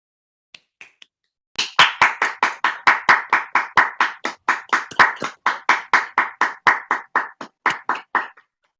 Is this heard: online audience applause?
yes